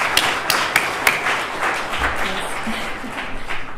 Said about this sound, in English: let's have a round of applause for everyone who helped